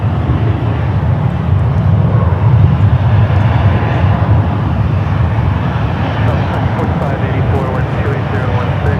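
A loud, steady airplane engine roar at San Francisco airport, a broad continuous rumble holding for the whole stretch with no clear talk.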